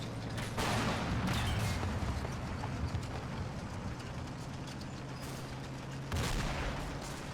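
Direct-fire mortars in a war strategy video game fire in rapid, overlapping booms against a dense, roaring battle din, with a louder burst near the start and another toward the end.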